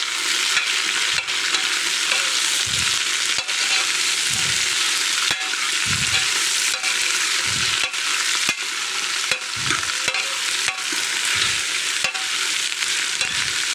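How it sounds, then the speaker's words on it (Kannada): Potatoes fry in a pan for a sambar while a spoon stirs them, a loud continuous sizzle with rhythmic scraping strokes repeating every second or so, close and without talk. "ಆಲೂಗಡ್ಡೆ ಹಾಕ್ಕೊಂಡು ಇದನ್ನು ಸ್ವಲ್ಪ ಕೈ ಆಡಿಸ್ಕೊಳ್ಳೋಣ"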